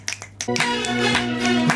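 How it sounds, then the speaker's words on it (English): A few sharp hand claps land on the downbeat of a three-count, then give way to sustained music from a theme song playing underneath. "Like this, and I'll clap the downbeat."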